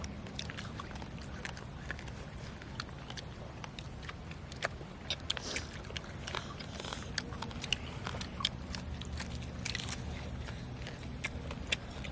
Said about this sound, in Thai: đang cóp kép cóp kép nè